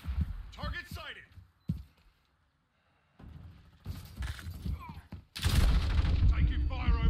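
Bursts of video game gunfire, several sharp shots and a dense rattling volley near the end, mixed with voice chat and game sounds and a short quiet gap in the middle.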